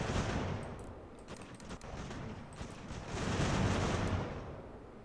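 Musket volleys in the American Revolution battle game Ultimate General: a dense, rolling crackle of many distant shots blending into a continuous roar, swelling louder toward the end.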